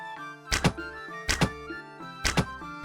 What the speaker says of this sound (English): when you die, there is a 3D death sound and a corpse is spawned